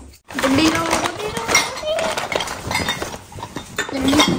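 Coffee cups for a new home's kitchen clink and rattle together as they are handled, several light clinks scattered under close conversation.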